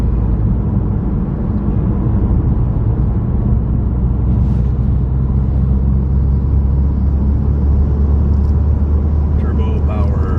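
A turbocharged car engine drones steadily while driving on the road, a loud low rumble with constant road noise throughout and no clear changes in pace.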